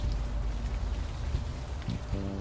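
Steady rain pours down on a nasty night in the game Unavowed, a constant soft hiss of drops at moderate level, with a faint low tone entering near the end.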